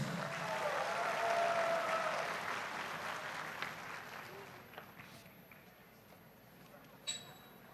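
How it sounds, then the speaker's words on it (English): Audience applause at a Yarthot Kazip celebration, loud and sustained for the first few seconds, then thinning and fading into scattered claps and room noise with a brief clatter near the end. "Let us once again appreciate them with a big round of applause"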